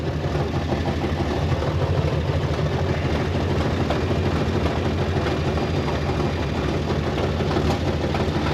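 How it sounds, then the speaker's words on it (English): A 1930 International fire truck engine idles steadily nearby with a rough, uneven rumble, missing on a cylinder or two. "It sounds like it's missing on a cylinder or two."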